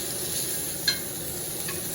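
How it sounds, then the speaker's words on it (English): A Wagyu New York strip steak sizzling in a pan of boiling butter as it is spooned over, a steady hiss with a sharp scrape of the spoon, close and without talk. "the boiling butter is going to help sear it more too"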